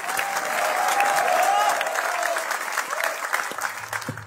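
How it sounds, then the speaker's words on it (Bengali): Sustained audience applause at a stage show celebrating Bachelor Point Season 4, a steady broad wash of clapping with some crowd noise, holding level before gradually tapering. "আমরা জোরে একটা হাততালি চাই ফর বিপি সিজন 4"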